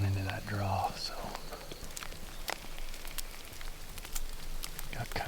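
Light rain patters outdoors in hunting country, a soft continuous hiss with scattered sharp drop ticks, while someone speaks quietly close by at the start.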